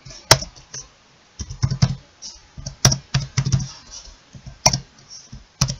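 Keys clack on a computer keyboard in short irregular bursts, with a few sharper isolated taps between clusters of quicker strokes, close and clear in a quiet room.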